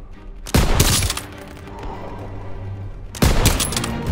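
Gunfire in the World War II shooter Call of Duty WWII: two loud bursts of rifle and machine-gun fire at the start and near the end, each dying into echoing battle noise, with a low rumble of combat between them.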